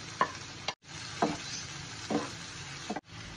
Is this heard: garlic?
yes